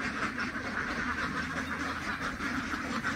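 Native itik ducks being unloaded from a truck into their duck pen, a close flock quacking steadily and loudly throughout with no talking.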